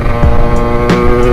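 DRD Pro motorcycle with a new engine, running close and loud, a steady rough idle with slight throttle swells, no voices.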